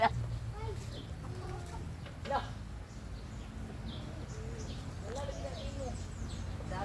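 An imported gamecock clucks in short, repeated bursts over a steady background hum, with people talking nearby.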